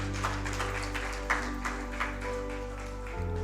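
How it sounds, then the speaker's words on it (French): An audience applauding at the closing ceremony of an entrepreneurship event, a steady crowd clap with a few louder claps standing out, heard over a constant low electrical hum and sustained tones from the sound system. "Est-ce qu'on peut applaudir pour la dynamique,"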